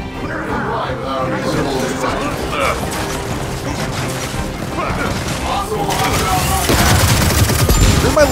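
Gunfire from a large gun in Gears of War 4, a dense, continuous barrage of heavy shots and clanking mechanisms that builds louder toward the end, mixed with game effects.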